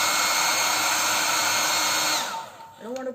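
A hair dryer blows loudly and steadily on painted paper, then winds down over about a second, and a voice follows briefly at the end.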